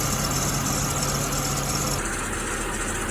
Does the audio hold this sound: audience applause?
no